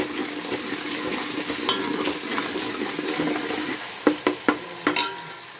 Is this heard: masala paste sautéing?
yes